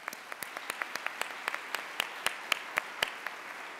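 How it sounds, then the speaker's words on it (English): Scattered audience applause at a nursing conference opening reception, a moderate sparse patter of individual claps that gradually thickens, heard without speech. "Please join me in giving them a round of applause."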